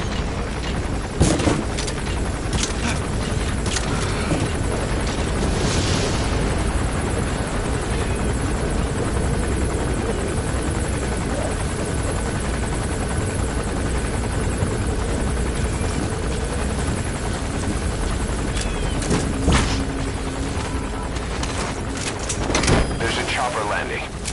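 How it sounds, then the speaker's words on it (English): Enemy gunship helicopter approaching in the Metal Gear Solid V video game, a loud continuous rotor thrum with sharp bursts of gunfire and explosions mixed in, with game voices talking over it. "That's an enemy gunship."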